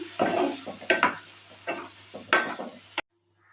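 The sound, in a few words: stirring vegetables in frying pan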